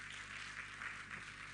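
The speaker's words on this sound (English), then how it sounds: "A round of applause for the Honorable Minister" Brief burst of steady audience applause for the Minister of Sports Development at a Nigeria diaspora investment summit, dense clapping heard faintly and at a distance, with no talk.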